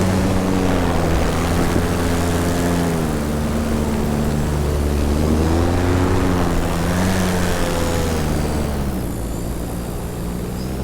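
An electric paramotor in flight, running low on power, gives a steady propeller whine whose layered tones slowly rise and fall, close and continuous without pause.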